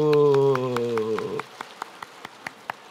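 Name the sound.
church congregation clapping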